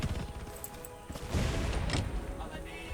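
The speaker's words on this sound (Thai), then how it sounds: "แต่ก็ต้องปาระเบิดแล้ว" A grenade blast in the video game Undawn, a heavy booming burst mixed with crackling gunfire and a loud rumbling crash, heard up close amid the shooter's battle noise.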